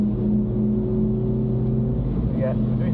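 A Mini Cooper S engine on the Blyton Park circuit during a track day holds a steady, droning note throughout, with a voice speaking over it.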